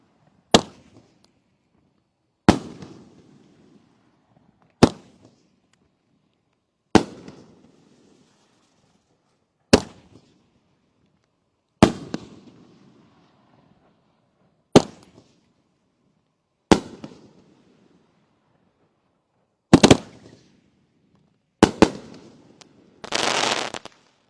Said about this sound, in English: we're moving on to the big 3-inch diameter cakes, starting with the Supermax Prison